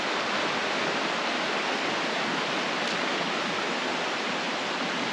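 A creek rushing beside a campsite gives an unbroken, even roar of flowing water, close and fairly loud, with no voices.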